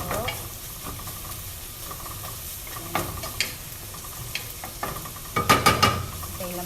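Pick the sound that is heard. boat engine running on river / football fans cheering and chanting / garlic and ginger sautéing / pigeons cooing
garlic and ginger sautéing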